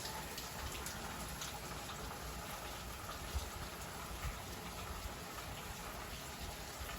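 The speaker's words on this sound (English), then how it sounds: "it is definitely raining" Rain falls outdoors in Malvern as a faint, steady, even hiss with no distinct drops and no talk.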